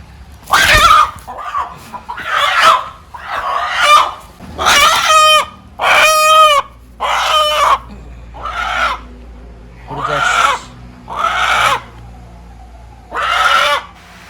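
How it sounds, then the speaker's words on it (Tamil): Free-range village chickens in a netted farmyard cluck and crow in a string of loud, separate calls close by, with one long rooster crow standing out amid shorter squawks. "அதனால் பார்த்தீங்கன்னா இங்கே வலை போட்டு நம்ம நிறையா கோழியெல்லாம் வச்சுருக்கோம்"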